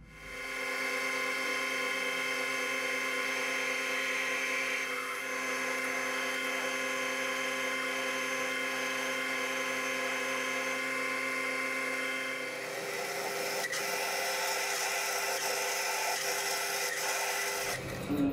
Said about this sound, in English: I'm going to put a centre bore in it and probably counter bore that just a fraction for a nut